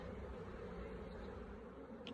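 Honey bees buzz around an open hive box during an apiary inspection, a faint, steady, continuous hum with no voices.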